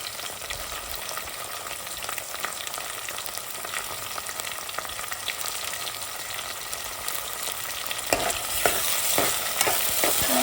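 Tomatoes tipped onto frying chilies and stirred in a pan for Nellore fish curry, a steady loud sizzle throughout with scraping stir strokes growing busier toward the end, no talking.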